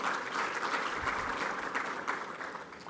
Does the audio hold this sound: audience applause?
yes